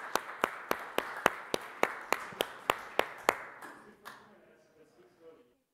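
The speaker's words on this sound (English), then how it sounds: "Let's give them a round of applause." Audience applause at a startup conference comes across as a steady run of about a dozen sharp, evenly spaced claps that stop abruptly, followed by a short, faint tail of room noise.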